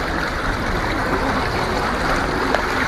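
Floodwater running through city streets in Urdesa, Guayaquil after heavy rain, a steady broadband rushing and trickling wash that continues without a break, close and fairly loud, with no talk over it.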